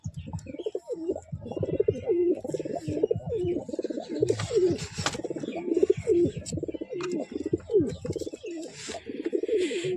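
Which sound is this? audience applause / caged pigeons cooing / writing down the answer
caged pigeons cooing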